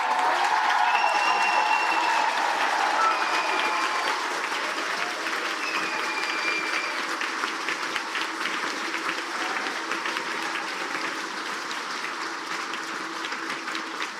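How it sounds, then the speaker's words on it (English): Sustained audience applause fills the arena at the individual gym wheel finals of the wheel gymnastics world championships, a broad, even roar of many clapping hands that slowly eases in level over about fourteen seconds. "I think that deserves another round of applause."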